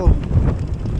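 Wind rumbles and buffets the microphone outdoors in a brief, close gust, with a voice speaking over it.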